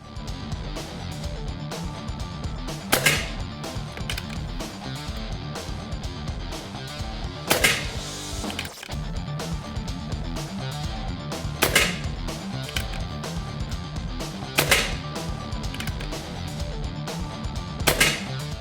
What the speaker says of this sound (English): So let's see what 5 shots here at 20 is gonna look like.